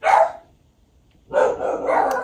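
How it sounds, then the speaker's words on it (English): Dogs bark indoors: one loud, close bark, a brief pause, then a longer burst of barking. "my dogs are barking"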